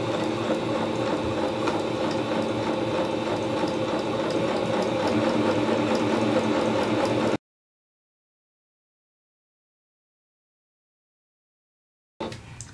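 A sewing machine stitches a close 1/8-inch seam on a dress. It runs fast and steady with a rapid even chatter, loud and close for several seconds, then stops dead into silence before starting again briefly.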